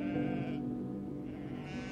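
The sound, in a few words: sheep bleating, audio drama sound effect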